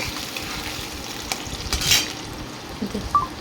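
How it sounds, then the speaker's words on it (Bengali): Bay leaves, chopped onion and chilli frying in oil, a continuous sizzle with stirring scrapes and a couple of light utensil clinks against the pan; no talk. "তারপর আমি নাড়তেই থাকবো ফ্রাই হওয়া পর্যন্ত"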